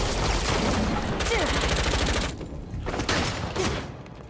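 Rapid gunfire from several different guns in Lost Ark rattles in quick bursts, close and loud, with short gaps as weapons switch, and a voice speaks over it.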